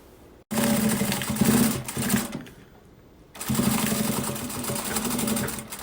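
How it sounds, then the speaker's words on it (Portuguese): Sewing machine stitching a strip of fabric near a zipper, a loud steady mechanical whirr in two long runs with a brief slowdown between them. "a gente vai passar uma costurinha, pezinha de máquina aqui"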